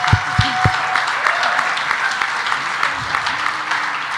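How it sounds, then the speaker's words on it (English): Applause from an audience for two people at a community gathering, steady clapping throughout with a few sharp knocks at the start. "I think they need a round of applause for all their work"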